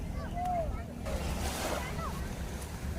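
Rushing surf and wind roar at a beach resort in Balubad, Atimonan, Quezon Province, Philippines, with a few faint voices in the background.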